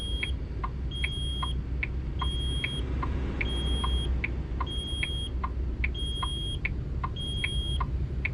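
Repeating electronic warning beeps from a truck in American Truck Simulator, a steady pattern of short high tones sounding over and over above a constant low engine rumble, with no talk.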